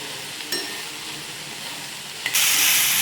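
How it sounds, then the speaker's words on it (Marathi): Green chillies and spring onion greens sizzle in hot oil, a steady close hiss with a sharp crackle near the start, then a sudden louder burst of frying as more goes into the pan. "ही पात चांगली छान अशी हिरवी होईल तोपर्यंत मी परतून घेते मिरच्या आणि पाथा"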